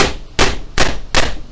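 Four hard, evenly spaced hammer blows driving a nail into wood on a workbench that is not firmly fixed, each strike loud and close with a sharp onset and short ring.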